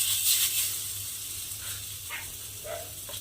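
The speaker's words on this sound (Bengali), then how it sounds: "দিয়ে আবারও কিন্তু এর মধ্যে এই ব্যাটারটা দিয়ে গোল করে পিঠেগুলো ভেজে নিতে হবে" Eggplant pitha batter frying on an oiled griddle gives a steady, soft, airy hiss that stays even throughout with only faint movement noises.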